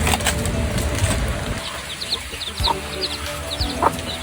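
Hens cluck and newly hatched chicks cheep in a rainy backyard, with sharp peeping calls scattered over soft clucking and a light patter of rain.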